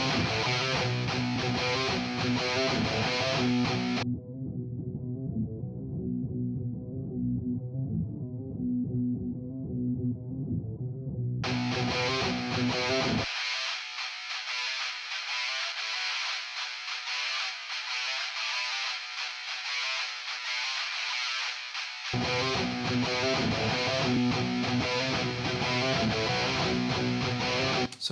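Heavy distorted rock guitar chugging steadily through the mix, with multiband compression bands soloed in turn so the tone shifts between full-range, low-only, high-only and back to full, loud and continuous.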